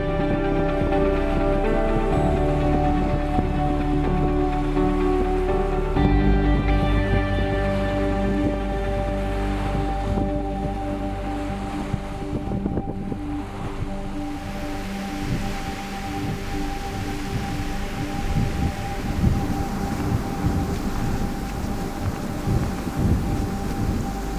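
Heavy rain pours steadily through the night during a thunderstorm, with deep rumbling thunder rolling underneath. The drumming of the rain grows denser and harsher in the second half, and no voices are heard.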